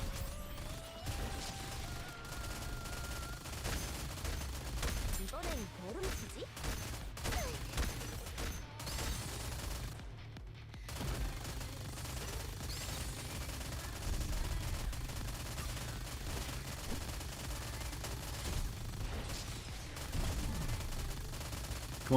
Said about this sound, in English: Shoot the guns again.